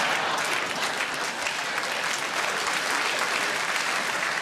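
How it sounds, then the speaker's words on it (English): Theatre audience at a variety performance breaking into dense, sustained applause, loud and even throughout with no pause, heard from within the crowd. "that's the applause of recognition"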